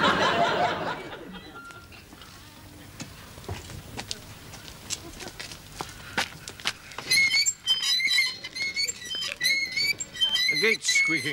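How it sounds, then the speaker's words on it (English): An old gate squeaks in a sitcom scene, with shrill, wavering creaks repeating in quick bursts over clattering noise, close and fairly loud. "The gate is squeaking."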